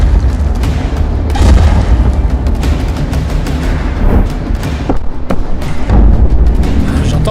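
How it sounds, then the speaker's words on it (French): Loud, repeated booming blasts and thuds follow one another in quick succession, close and heavy, with sharp cracks cutting through a continuous rumbling din. "J'entends des explosions là-bas."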